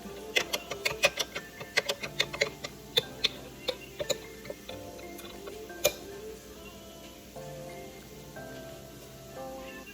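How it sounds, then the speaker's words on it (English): A spoon stirs a day-3 homemade mixture in a container, giving a quick run of light, close clicks and taps over the first six seconds before it settles into a faint, quiet hiss. "We're going to stir it up."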